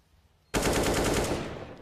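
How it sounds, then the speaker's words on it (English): A single sharp AWP sniper rifle shot in a competitive CS:GO match on Inferno: a sudden loud blast after a quiet moment, followed by a dense, decaying crackle of game audio, with no voice. "That's a really good shot there."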